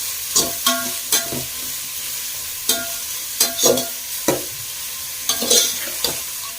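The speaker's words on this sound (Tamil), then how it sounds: "வெங்காயம் வந்து நல்லா கோல்டன் ப்ரௌன் ஆகுற அளவுக்கு வதக்கணும்." Onions sautéing in a pan for chicken biryani, heard as a steady faint sizzle broken by a series of close scraping stirs at irregular intervals, with no talking.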